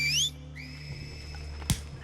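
A shrill two-tone whistle signal from The Last of Us, a short rising pitched call at the start followed by a fainter sustained whistle tone, with a sharp thud near the end.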